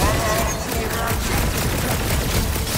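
Dense gunfire during a battle in the PS5 game Guardians of the Galaxy, a loud continuous rattle of shots and booms filling the whole short stretch.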